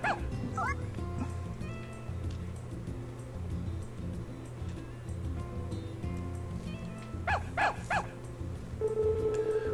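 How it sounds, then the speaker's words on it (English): Stray dogs in the farming video game Story of Seasons: A Wonderful Life give short yips and whimpers over steady background music, with a louder burst of barking near the end. "Guess a couple of stray dogs settled in here."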